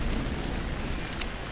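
Rain falls in the village-building video game Villagers as a steady hiss of drops filling the whole clip at moderate level, with a few faint brief ticks near the end and no talking.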